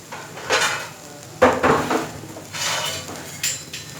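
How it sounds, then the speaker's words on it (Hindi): Egg fried rice with vegetables being stirred in a pan, a spatula scraping and clinking against metal in several separate bursts, with faint sizzling between them. "अच्छी तरह से तमाम चीज़ों को मिक्स कीजिएगा, सब्जियों के साथ चावलों को।"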